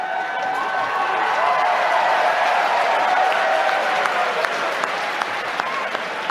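A large crowd at a college debate event bursts into sustained applause, dense steady clapping at close range with a few scattered cheers.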